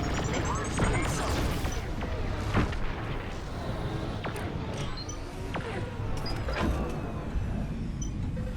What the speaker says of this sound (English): They launched a missile.